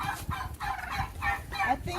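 Farmyard turkeys gobble and chickens cluck in short, overlapping bursts, fairly close and busy, with a bird calling out repeatedly over a low background.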